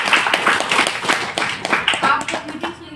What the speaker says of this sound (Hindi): कोकोनट पर तेल के लिए एक बार जोरदार तालियां।